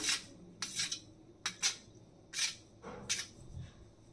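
A spoon stirring pepper powder and salt into a sauce in a bowl for chilli chicken, several short scraping clinks against the bowl in uneven bursts, close and clear with no talk.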